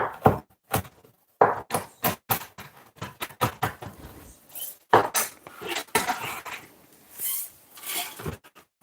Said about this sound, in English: cutting up the herbs